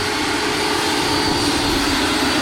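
Electric ducted fan on a radio-controlled MD 600N model helicopter, throttled down to 25,000 RPM, producing a steady, loud, high-pitched whine and rushing air roar that holds constant throughout, with no talking.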